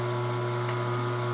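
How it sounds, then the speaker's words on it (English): An Omega TWN30S cold-press twin gear juicer pulls stinging nettles through its gears with a constant loud motor hum and grinding drone, steady and unbroken throughout. "I really like how the Omega Twin Gear literally sucks the greens right through the machine."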